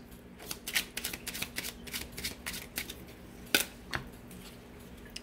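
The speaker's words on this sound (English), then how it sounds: "One more shuffle." Tarot cards being shuffled: quiet, rapid riffles and slaps of cards in irregular bursts, close and soft, with a low steady hum underneath and no talking.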